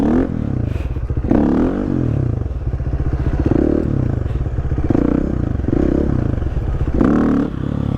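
A four-stroke motorcycle engine runs loud and close during wheelie practice, its throttle rising and falling in repeated surges with rattling and clatter.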